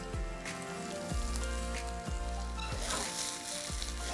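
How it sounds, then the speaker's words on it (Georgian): Shredded cabbage sautéing in a frying pan gives a steady close sizzle, with a few soft knocks and stirring sounds recurring roughly every second. There is no talking. "კარგად მოვშუშოთ, ისე რომ კომბოსტო დარბილდეს"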